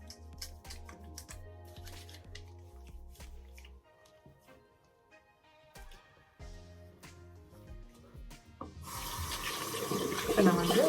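Tap water runs into a sink during a homemade skincare face wash, with scattered handling clatter early and a louder steady gush of running water in the final seconds.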